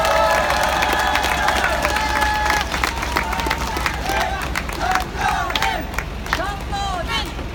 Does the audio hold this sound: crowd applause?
yes